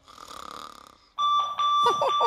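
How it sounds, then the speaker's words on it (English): A vibrating alarm clock's pulsing buzz gives way to a loud, shrill 85-decibel alarm tone that rings continuously, with a brief vocal sound layered near the end. "As well as an alarm that is 85 decibels, it also vibrates pretty vigorously"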